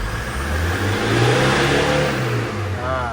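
A Toyota Hilux diesel with a turbo actuator fault accelerates on a road test after turbo, injector and EGR cleaning. Its engine drones steadily and rises in a smooth pull, heard from inside the cab.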